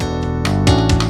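A cheap old electronic music keyboard plays a few clumsy, buzzy synthetic notes, loud and close, with abrupt changes in pitch and no voices.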